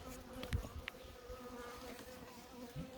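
Honey bees robbing a hive outdoors, a dense continuous buzzing drone of many insects at moderate distance, with a few louder passes close by and no talk.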